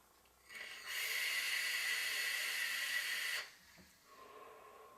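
A long, loud hiss from a hit drawn on a Yocan Favotank sub ohm vape tank near 120 watts lasts about two and a half seconds, then cuts off into quiet with a softer exhale-like rustle after.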